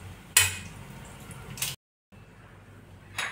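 Dates and edible gum roast in a pan over a low gas flame for date dry-fruit laddoos, a quiet, soft sizzle broken by a few sharp spatula scrapes against the pan, with a brief silent gap partway through.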